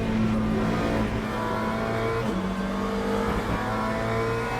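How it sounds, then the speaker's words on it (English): A race car in the sim game Le Mans Ultimate, lapping Spa-Francorchamps, holds a loud, steady engine drone with a slight pitch shift midway, the tone staying continuous and close throughout. "There's a faster car approaching."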